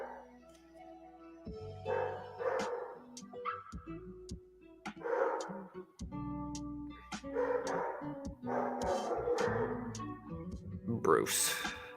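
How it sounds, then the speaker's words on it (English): A German Shepherd barks repeatedly in short bursts, with a few whimpering yips, while people talk nearby at a moderate distance. "he barks all the time"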